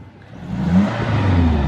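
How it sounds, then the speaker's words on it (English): A Toyota Tacoma pickup's engine revs up close, a single rising, throaty swell that holds steady at a loud roar for over a second, with no talking. "Rev it up real quick."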